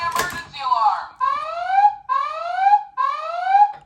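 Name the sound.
emergency alarm of Matchbox Volcano Escape toy playset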